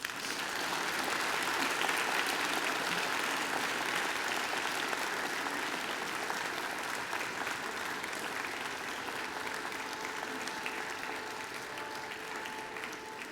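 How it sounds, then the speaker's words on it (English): A graduation audience of families and friends applauds steadily at a Macquarie University ceremony, a broad, even wash of clapping from a large hall that continues without pause. "And now I invite you to give them a mighty round of applause."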